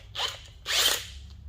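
Two short bursts from a power drill grinding a bit into a brake part of a 1971 VW bus to enlarge a hole, the second longer and louder, with a brief quiet gap between them.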